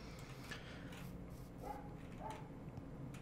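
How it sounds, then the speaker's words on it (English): A pet dog barks faintly in the background of a quiet home room, a few soft, distant yaps scattered over a low steady hum. "my dog is going off"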